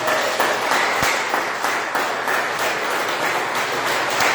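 A congregation at a Portuguese-language church worship service claps loudly and close by. The claps fall in a steady rhythmic beat that carries on throughout, with no other sound standing out.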